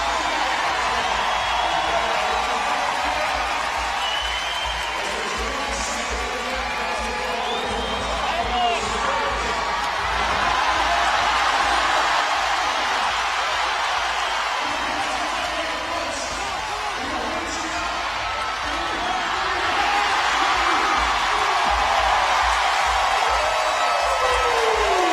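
Steady roar of a large arena crowd at the CrossFit Games, cheering and shouting continuously with a commentator's voice running over it.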